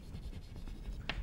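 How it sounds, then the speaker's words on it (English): Chalk or marker strokes on a board during a maths lecture, a short run of soft scratching with one brighter, sharper stroke near the end. "let me write that down"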